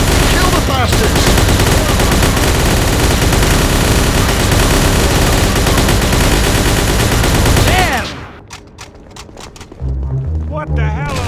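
Dense, nonstop gunfire from a shootout in the 1930s-set video game Mafia (2002), loud automatic bursts and shots overlapping for about eight seconds, then dropping to quieter scattered shots and a low rumble.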